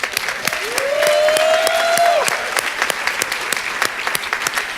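Audience applause fills an awards ceremony hall, steady and fairly loud, with a sustained tonal sweep from a voice or whistle rising over the clapping early on.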